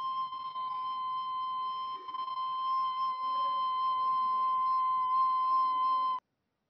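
A recorder holds a single high octave C, a clear, steady whistling tone that sounds alone for about six seconds at even loudness and then stops cleanly.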